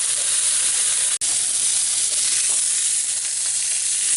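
Salmon fillet frying in a hot pan gives a steady, loud sizzle and hiss that runs throughout without a break, with a brief clunk near the start.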